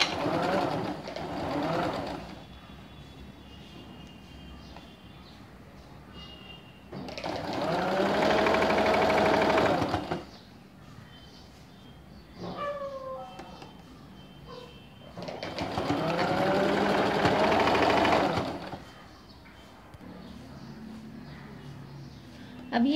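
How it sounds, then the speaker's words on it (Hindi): A sewing machine stitching straight-cut ladies pants runs in two loud, sustained bursts of rapid whirring, separated and surrounded by quieter pauses. "अब इस तरह से हम पहले इस साइड पे मशीन लगाए सिलाई लगाएंगे।"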